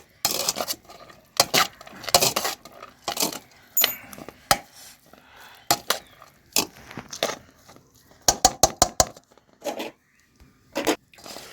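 A spoon scrapes and clinks against a metal vessel while tamarind rice (pulihora) is stirred, giving a string of irregular sharp knocks and scrapes with short pauses between them, close up and with no talk.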